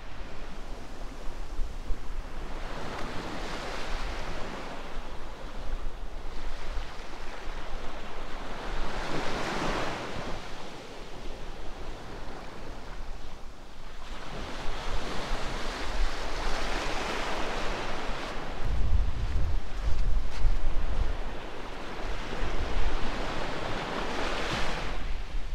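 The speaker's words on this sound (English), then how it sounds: "what a beautiful beach with the waves lashing up against the sand there" Waves surge and wash up onto a sandy beach at West Bay on the Dorset coast, a continuous roar of breaking surf rising and falling in swells, with wind buffeting the microphone and no voices.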